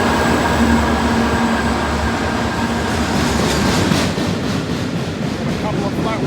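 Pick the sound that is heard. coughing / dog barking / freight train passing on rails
freight train passing on rails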